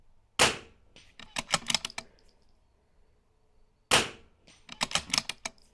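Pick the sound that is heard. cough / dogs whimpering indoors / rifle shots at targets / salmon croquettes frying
rifle shots at targets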